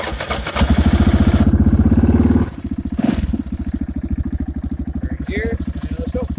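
Early 2000s Yamaha motorcycle engine running nearby, a loud pulsing idle that revs briefly and then settles back into a steady rhythmic putter, with talking in between.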